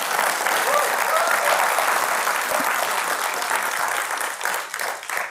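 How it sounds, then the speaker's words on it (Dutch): Warm applause from the audience at a Rotterdam talk event on colonial history, a steady, full crowd of clapping that holds evenly before thinning slightly at the end. "Graag een warm applaus."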